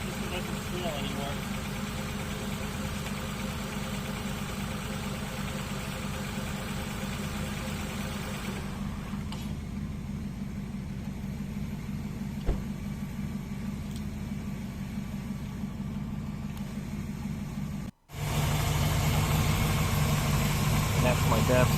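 A 2007 Honda Accord 3.0 V6 engine idling after a belt replacement, a steady low hum with no squeal, heard close, running evenly and briefly dropping out before resuming louder.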